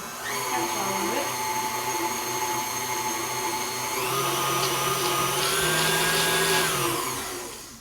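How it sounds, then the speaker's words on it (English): An electric hand mixer whirs through cheesecake batter, a loud steady high-pitched motor whine that shifts in pitch midway as the load changes, running continuously for several seconds. "Scrape it all back down the center so that my mixer handle will catch all of it."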